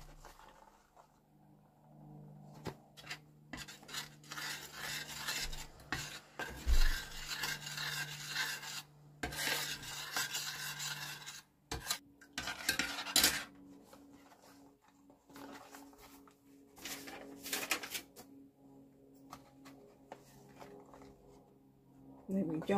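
Cocoa being cooked and stirred in a pot: irregular scraping and rubbing strokes close by, broken by pauses, with a person talking over parts of it.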